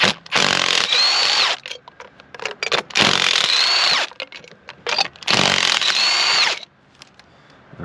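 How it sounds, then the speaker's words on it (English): Impact wrench spinning spark plugs out of a Ford Focus flooded by a hurricane, three loud rattling bursts of about a second and a half each, separated by quieter pauses with small clanks. "Don't use an impact like I'm doing"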